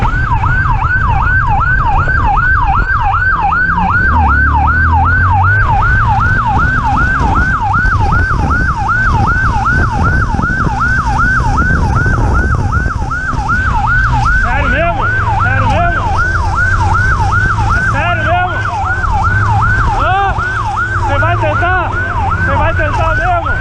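Police and ambulance sirens wailing continuously during a high-speed motorcycle and car chase in Brazil, loud and close with a fast oscillating yelp pattern over traffic rumble, with a second overlapping siren joining later.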